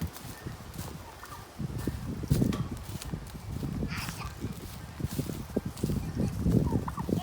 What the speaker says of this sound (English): I'm getting chased by a rooster.